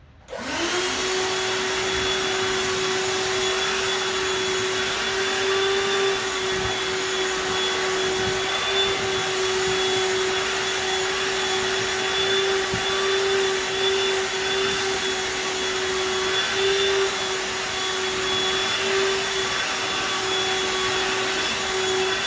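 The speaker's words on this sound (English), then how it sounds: "we're going to vacuum up some of this hair and then lint roll our patient." A vacuum cleaner switches on and runs with a steady, loud droning whine, sucking up clipped animal hair while preparing a veterinary surgical site, its suction noise fluctuating slightly throughout.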